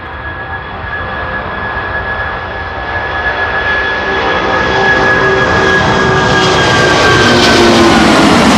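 A Transavia A321neo airliner lands at Schiphol: its jet engine whine grows steadily louder as it approaches, with a thin high tone and a broad rushing roar building to a close, loud pass.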